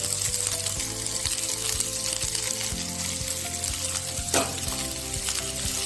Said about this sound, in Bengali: একটু ভাজা হোক, ভাজা হতে দিয়ে যখন একটু ব্রাউন হয়ে যাবে